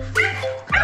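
A dog barks and yips twice in quick succession, sharp and close, with a brief whining tone between the barks, out in a residential subdivision.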